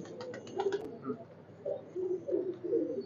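KTM and Oman bloodline teddy pigeons coo close by in soft, repeated low throaty phrases, with a brief flutter or clatter early on.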